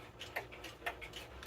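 A Seth Thomas 30-hour ogee clock, fitted with a replacement gong, ticks steadily with evenly spaced, crisp ticks, three clear beats standing alone against quiet background.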